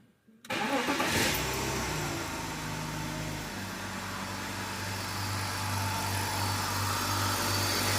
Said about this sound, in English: So that is a cold startup.